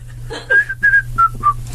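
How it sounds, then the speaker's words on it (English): Someone whistles a short marching tune nearby, five or six clear, clipped notes stepping downward in a lively rhythm, loud and alone. "There's a bit of whistling."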